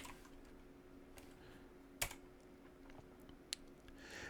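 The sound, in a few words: typing a playlist name on a computer keyboard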